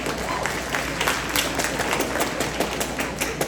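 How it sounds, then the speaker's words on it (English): School audience clapping at an incoming freshmen presentation, a steady dense patter of many hands filling the room, moderately loud and continuous throughout. "You can clap."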